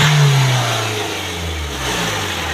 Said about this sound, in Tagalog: Naririnig nyo guys yung tunog ng makina.